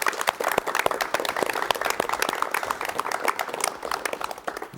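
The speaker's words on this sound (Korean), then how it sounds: "여러분 박수로 맞이해 주시면 대단히 고맙겠습니다" An audience applauds to welcome a guest onto a Korean television talk show set, dense continuous clapping from a studio crowd that holds steady and tapers slightly at the end.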